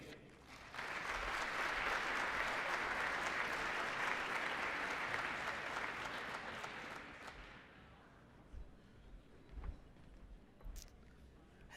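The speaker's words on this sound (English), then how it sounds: "Cheer loudly and proudly." Audience at a university athletics all-sports banquet bursting into sustained applause and cheering, a dense wash of clapping that swells quickly, holds for several seconds, then thins out to a few scattered claps and room noise.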